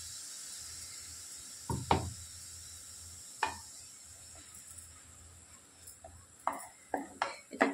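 A spatula scrapes and knocks in a pan while food is stirred and sautéed, scattered sharp clatters over a low, quiet sizzle, growing busier toward the end.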